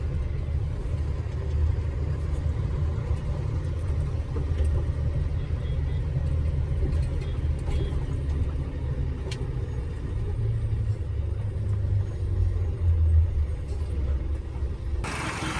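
A Tata Ultra truck idles with a steady low engine rumble after pulling over to the roadside, close and continuous, with a brief sharper sound at the very end.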